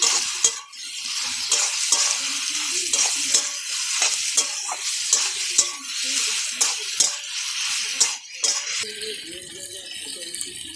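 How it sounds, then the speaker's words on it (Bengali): Fried jackfruit, chicken and potatoes being stirred into sizzling curry spices in a pan. A spatula scrapes and knocks in a quick, repeated rhythm over a continuous sizzle, close up, with no one speaking. "এবারে ভালো করে মশলার সাথে মিশিয়ে নেব।"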